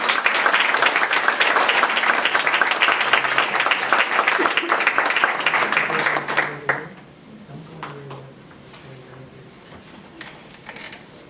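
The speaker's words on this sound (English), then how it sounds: "Let's have another round of applause." Loud applause from a crowd at a high school board meeting fills the first half, then quickly dies down into quiet room noise with a few scattered late claps.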